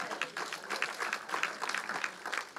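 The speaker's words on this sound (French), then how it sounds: "On peut applaudir Jésus." Faint, distant congregation applauding at a church service, a soft steady patter of many hands with a loose pulsing rhythm throughout.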